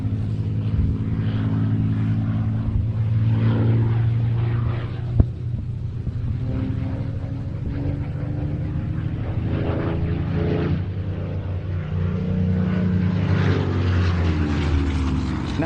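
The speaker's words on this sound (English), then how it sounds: "our pilot, George Hay, is also the owner of this aeroplane" Propeller aeroplane flying at the Old Buckenham Airshow 2022, its engine a steady, fairly loud droning hum that holds throughout with slight swells, heard alone without talk.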